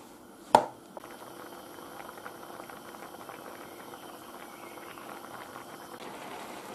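Seafood paella broth boiling over high heat makes a steady, soft bubbling hiss after one sharp clank near the start.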